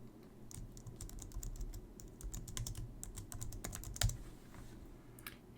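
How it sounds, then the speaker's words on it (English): Keystrokes on a computer keyboard as a keyword is entered into a search field, a steady run of quick clicks with one sharper press near the end, no voices. "So let's type that in"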